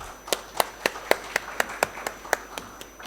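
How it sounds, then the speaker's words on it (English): A small audience at an HR meet applauds guests called onto a panel stage, with sparse, distinct claps spaced roughly a quarter-second apart rather than a dense ovation, moderately close. "a round of applause for our guests"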